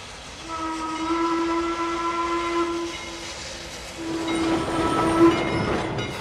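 A steam whistle blows a long steady tone, then sounds again as a narrow-gauge Heisler steam locomotive rumbles and chuffs louder nearby, departing the depot at Roaring Camp.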